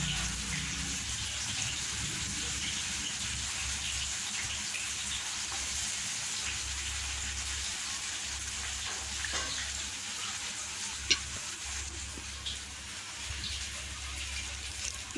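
Okra (bhindi) coated in atta, frying in hot oil in a pan, a steady close hiss and sizzle with faint crackles, continuous throughout.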